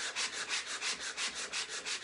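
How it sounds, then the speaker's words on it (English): A sanding block rubs over a white painted wood frame, lifting the top paint in about eight steady back-and-forth strokes, close and even, with no talking. "any of these surfaces or frames that have this white wood on it, I like to sand them just a little bit."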